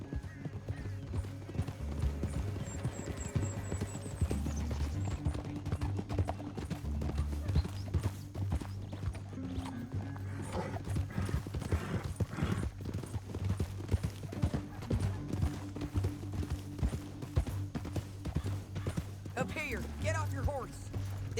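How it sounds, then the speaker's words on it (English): Steady clip-clop of horse hooves in Red Dead Redemption 2 runs throughout alongside low music, with voices talking over it and a brief whinny. "And that sure is Shane Finley coming off the back of his horse."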